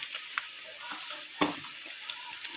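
Spices such as turmeric, salt and Kashmiri chilli powder are stirred and fried in a pan for a pangas fish curry, giving a soft steady sizzle with light scraping clicks and one louder knock.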